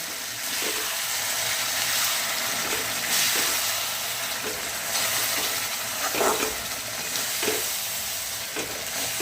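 Stuffed brinjals fry steadily in hot oil in a pan, a continuous bright sizzle with occasional soft stirring clicks, close and fairly loud with no talk.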